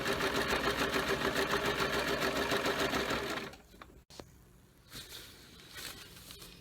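A sewing machine stitches an under quilt protector hem with a rapid, steady mechanical whir for about three and a half seconds, then stops, leaving faint handling rustles and soft clicks.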